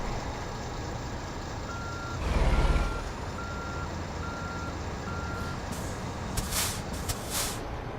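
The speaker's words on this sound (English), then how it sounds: "let me start the truck up" A GTM Kenworth T800 truck starts up in American Truck Simulator, with a short rising rumble of the engine turning over and catching, then a steady idle under beeping and a few hissing air bursts.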